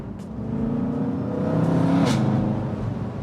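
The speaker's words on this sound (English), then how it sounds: "I actually can't believe I'm driving my M5" A BMW M5 on the move, its engine a steady, close hum with rising harmonic tones of acceleration and a brief brighter swell near the middle, continuous throughout with no talking.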